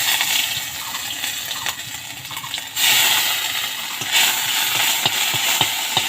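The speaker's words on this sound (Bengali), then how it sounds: "ভালো করে আমি ভেজে নিচ্ছি।" Ginger paste frying in hot oil in a wok, a continuous close sizzle with occasional scrapes and taps of a spatula as it is stirred, rising slightly partway through.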